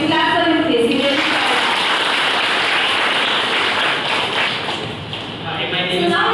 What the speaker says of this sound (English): Can you clap for him, please?